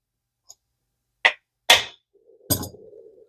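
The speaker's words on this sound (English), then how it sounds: "Take your non-marring hammer." A non-marring hammer taps a small vintage D.A.M Quick 110 ultralight fishing reel during repair: a faint tick, then three sharp, close knocks, with a low hum rising at the end.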